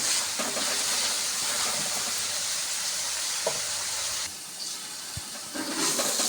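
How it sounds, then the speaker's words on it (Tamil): Beans, carrot and capsicum sizzling in hot frying oil, a continuous loud hissing crackle with small pops, briefly dipping quieter before surging again. "நல்லா பபிள்ஸ்லாம் வந்து நல்லா வேகுது பாருங்கள் எண்ணெயிலேயே"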